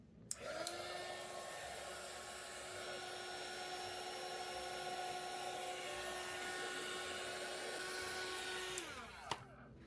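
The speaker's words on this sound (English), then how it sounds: "Then we're just going to heat the tool up and give this a melt" A heat tool melting embossing powder on a handmade card blows with a loud, steady whirring hum that starts with a click, holds evenly for about nine seconds, then clicks off.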